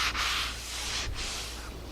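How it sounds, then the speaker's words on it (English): Hand sanding across the grain on a waterborne wood finish, two close, rasping strokes separated by a brief pause, alone with no talk. "Remember, we're sanding a finish."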